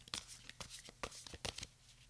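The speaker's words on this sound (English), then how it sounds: "I'm just going to start by shuffling the deck and just getting ready to draw the 3 cards" A tarot card deck shuffled by hand up close, a quick uneven series of soft papery slaps and riffles, fairly quiet.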